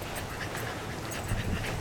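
A dog pants steadily and close by on the way to a Florida dog beach, a soft continuous breathy rhythm over faint outdoor background with no talking.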